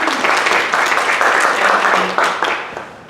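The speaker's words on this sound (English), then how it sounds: "Give her a round of applause." A conference audience gives a round of applause for a travel director, a dense, fairly loud burst of clapping that fades slightly toward the end.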